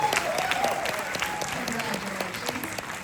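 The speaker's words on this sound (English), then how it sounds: "I'll give the applause back." A film premiere audience applauds in a rapid, crackling burst, close and lively, while voices carry faintly beneath the clapping.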